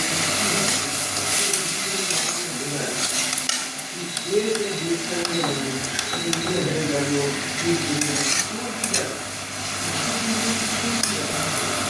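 Bengali-style spicy fish curry cooking in a pan, a spoon scraping and stirring through it amid a steady sizzle, close and continuous with clinks of utensils and a brief voice in the background.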